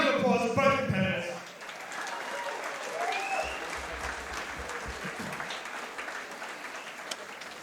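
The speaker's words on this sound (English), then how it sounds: "A round of applause for both competitors." Spectators at a jiu-jitsu tournament final applaud both competitors, a sustained wash of clapping and crowd noise with commentators speaking over it.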